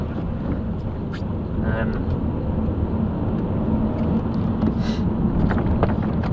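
A deep, low engine rumble as a silver 2005 Vauxhall Vectra SRi pulls away, steady and fairly loud, with faint higher noises scattered over it.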